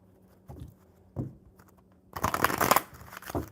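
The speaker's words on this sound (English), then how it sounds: "I'll shuffle them up and see if one falls out for me." Oracle cards being shuffled by hand, with a few soft riffling bursts followed by a louder, denser flurry of card flicks up close.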